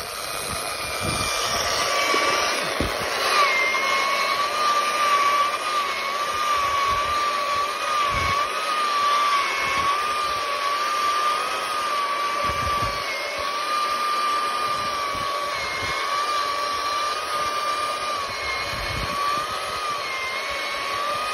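An EGO battery-powered bristle brush sweeps through a lawn to dethatch it outdoors, giving a steady, loud motor whine with a constant tone throughout, while wind adds rough gusts beneath it.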